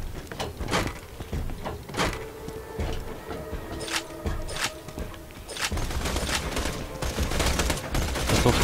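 Gunfire from a Borderlands 2 co-op firefight, with repeated sharp shots and bursts over a dense, busy game soundscape that thickens toward the end.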